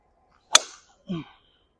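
A golf club strikes a ball off the tee in a single sharp crack, followed by a faint rustle, with no talk.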